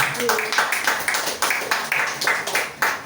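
A church congregation breaks into applause during a Spanish-language sermon, many hands clapping in a steady, dense rhythm that fills the room, with voices rising underneath.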